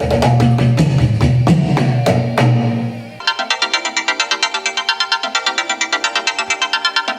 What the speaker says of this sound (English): This is the iPhone producing music.